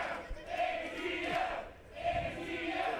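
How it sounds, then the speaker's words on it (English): A wrestling crowd chanting in unison for the wrestler ATM at an indoor match, a loud rhythmic two-part chant that rises and repeats, with a muffled thud near the start. "The crowd can chant for ATM as much as they want"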